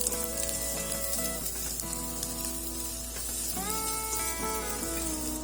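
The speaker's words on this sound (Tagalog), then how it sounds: "sunod na natin ilagay ang sibuyas. Gisa lang natin muli for another few seconds." Onion sautés in a pan, a moderate close sizzle with bright hissing crackle and a couple of short stirring sounds, no voices heard.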